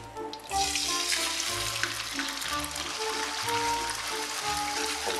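Eggs for a cheese omelette hit a hot pan with a loud, steady sizzle and crackle that fills the clip from start to finish, with no talking.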